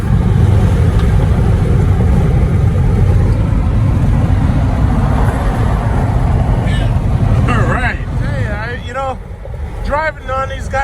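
Inside a moving Jeep SRT, a loud, steady engine and road rumble fills the cabin, heard through laminated glass and fading a little toward the end as a voice talks over it.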